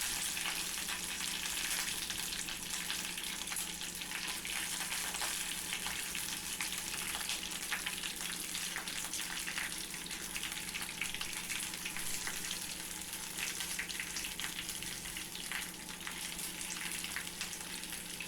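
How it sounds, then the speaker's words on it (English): Brinjals and curry leaves fry steadily in hot oil in a pan, a dense, even sizzle that holds close and loud for the whole stretch, with no voices over it. "Heat 2 tablespoons of oil in a pan and add some curry leaves and 4 or 5 brinjals"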